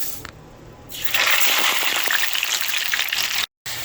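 Sweet potato fries hit hot oil and break into a loud, bubbling sizzle that swells after a quieter start and holds steady, then cuts out briefly near the end.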